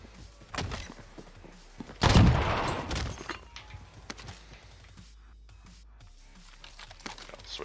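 MP40 submachine gun fire in a video game: a short loud burst of rapid shots around the middle, with scattered thumps, clicks and lighter impacts around it.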